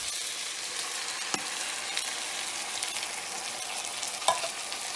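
Corn, black beans and diced apple stirred in a pot, a steady soft sizzle broken by a few light scrapes and knocks of the spoon, close and fairly quiet, with no talk.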